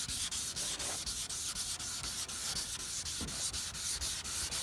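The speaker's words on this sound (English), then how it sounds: "Use a sanding block when sanding it." A sanding block wet-sands the paint on an Acura RSX, a close, steady back-and-forth rasp with regular strokes repeating about three times a second, loud and alone without voices.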